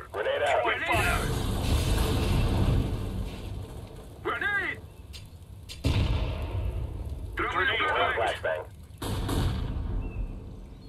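A grenade going off in a first-person shooter game, a few heavy booming blasts and rumbling bursts spread over several seconds, with voice callouts from the game.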